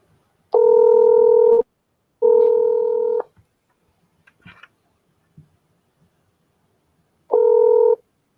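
A telephone keypad dials out in three long dual-tone beeps with pauses between them, with a few faint clicks in the gaps, clear and close with no talking.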